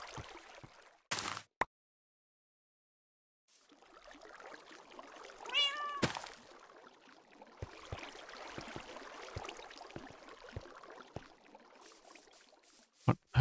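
A single Minecraft cat meows in the video game, a short rising-falling cry in the middle of quiet game ambience, with sharp clicks and soft rustling game sounds before and after.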